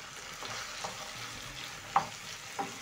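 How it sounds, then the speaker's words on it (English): Diced tomatoes and carrots frying in a pan for a coconut bean stew, with a soft steady sizzle and a few light scraping stirs, close and quiet, no talking. "Stir in the tomatoes and add in 2 large carrots."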